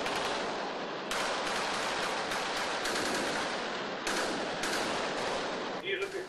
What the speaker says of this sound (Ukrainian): Наші хлопці вже почали відповідати навіть не з мінометів, не з далекобійної артилерії, а просто завдяки автоматам Калашникова